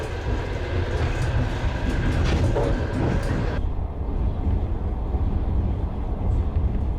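A train rumbles along the Baikal-Amur Mainline in Siberia, loud and close, with a clattering wheel noise that briefly drops to a duller, muffled roar partway through.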